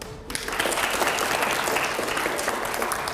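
A studio audience at a televised political debate show bursts into loud, sustained applause, dense, even clapping filling the room after a brief lead-in.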